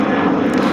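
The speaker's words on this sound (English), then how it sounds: "sorry for the plane noise" A fixed-wing airplane drones overhead as a steady, loud broadband engine rumble with no breaks, and a faint voice sits partly under it.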